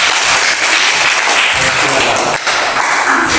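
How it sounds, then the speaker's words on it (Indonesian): A classroom audience claps for the group Garuda during a university teacher-training presentation, a dense, steady burst of applause from nearby hands that dips briefly and carries on. "Tepuk tangan untuk kelompok Garuda"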